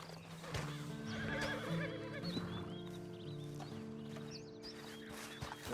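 A horse in Red Dead Redemption 2 whinnies loudly and close, with clip-clop hooves and faint bird calls in the game background.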